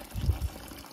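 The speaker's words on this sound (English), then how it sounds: "So this is the first initial water you put." Water poured into a lye mixture for a JADAM sulfur fungicide gives a brief, close, low splashing gush that tapers off within a second.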